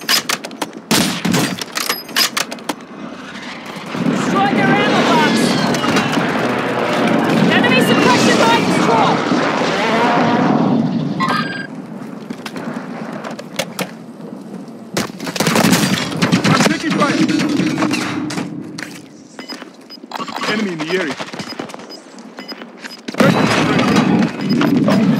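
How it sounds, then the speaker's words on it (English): Airstrike explosions rumble and boom through a Warzone 2.0 match, mixed with gunfire bursts and a game voice announcing over the action, loud and sustained for most of the stretch. "Friendly airstrike in the AO"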